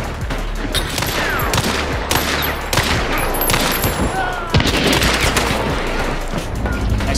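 Gunfire in Hunt: Showdown, shotgun blasts among dense shooting: heavy booming reports at irregular intervals over a constant roar of battle noise, loud and close.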